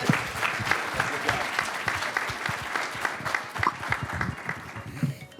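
An audience at a pitch competition gives a round of applause, dense clapping that swells and fades over several seconds with faint voices mixed in.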